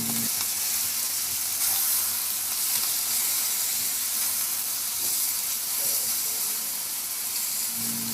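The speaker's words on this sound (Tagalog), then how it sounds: "Ginigisa natin yan sa malakas na apoy." Steady, loud sizzling and frying of chicken in a hot pan over high heat, continuous crackle and hiss throughout with no voices.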